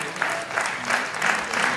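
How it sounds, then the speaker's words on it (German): Audience applause for the bikini overall winner at the NABBA Austrian Championship 2022 bodybuilding contest, a brief, moderate stretch of crowd clapping with a faint rhythmic pulse. "Bitte noch einen Applaus für unsere"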